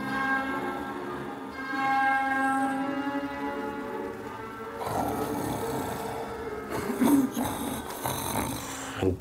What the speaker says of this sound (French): Grotesque ce ronflement.